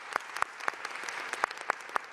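Audience at a dedication ceremony for the Shirley Chisholm Recreation Center in New York City claps steadily, a dense patter of many hands with sharper individual claps popping out, moderately loud and without speech.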